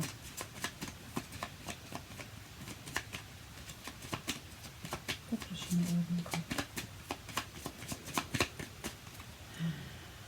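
Tarot cards are shuffled by hand in a series of quick, crisp riffling and flicking sounds, close to the microphone, with someone speaking over them.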